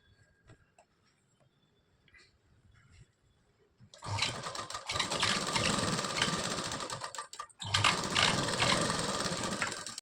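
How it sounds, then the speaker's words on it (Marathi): A sewing machine runs a narrow edge stitch along a pant pocket, starting abruptly after a quiet lead-in and whirring loud and steady with one brief pause. "आणि आता इथे शिलाई मारून घ्यायची आपल्याला, एकदम किनारी शिलाई मारायची आहे."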